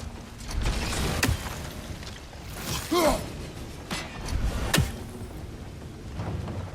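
A wheel mechanism in God of War Ragnarök turns under pressure from a frozen geyser, giving a few loud mechanical creaks and clunks with a ratcheting rattle, one sharp knock near the end, over steady rumbling ambience.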